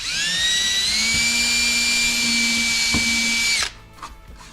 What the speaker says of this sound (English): I've got a 16th inch drill bit in here right now.